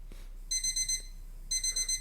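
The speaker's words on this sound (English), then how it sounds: "the alarm clock is going off" An alarm clock rings in two short bursts of rapid electronic beeping, each lasting about half a second, clear and close over a quiet background hum.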